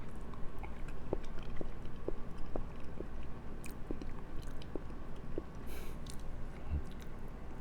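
Someone chews a spicy salmon sashimi mix close to the mic, with soft, wet, rhythmic bites and squishes over faint background hum.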